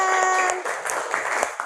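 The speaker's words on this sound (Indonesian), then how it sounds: "Tepuk tangan." A classroom group applauds together after a song in an Indonesian school lesson, a dense burst of hand clapping, close and steady, over a faint held tone at the start.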